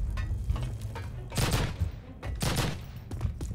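Bursts of PPSh submachine gun fire in Call of Duty, several rapid volleys at close range spaced across the moment, with a voice talking faintly between them.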